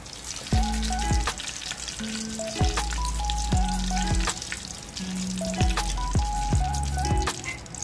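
Salmon frying in a pan, a loud constant sizzle with repeated sharp clicks and clatters of a utensil, fairly close, no voices.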